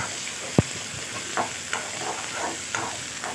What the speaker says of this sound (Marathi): मी कांदा टाकला आहे तर छान असं लालसर होईपर्यंत आपल्या आपल्याला परतून घ्यायचं आहे